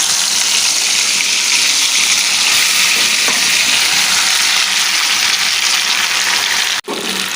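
A mashed lotia fish mixture hits hot oil in a wok and sizzles loudly and steadily, a dense continuous hiss up close that cuts off abruptly near the end.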